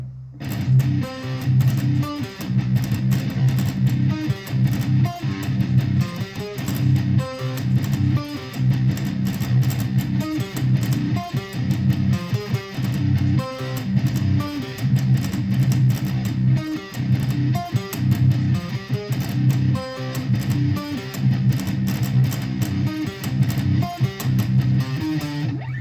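A distorted electric guitar chugs through the outro riff of a song, a steady palm-muted metal pattern played continuously and loud for the whole stretch.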